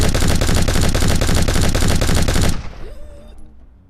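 A vintage warplane's nose cannon firing in a dense rapid burst for about two and a half seconds inside an air museum hangar, then cutting off and leaving a ringing echo that fades away.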